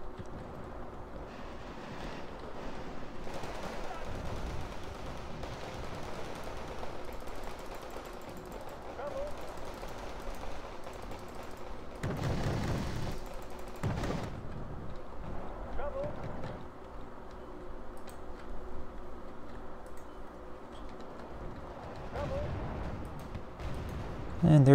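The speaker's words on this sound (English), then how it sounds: "Oh, they're about to get grenade launchered." In the Wargame: Red Dragon video game, grenade launcher rounds hit infantry as dull, distant booms and thuds. The impacts are strongest partway through and sit under a constant low battlefield rumble and someone talking.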